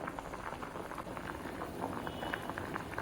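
Tutti frutti pieces simmer in a pot, giving a steady, dense bubbling and crackling hiss that runs evenly throughout without pause.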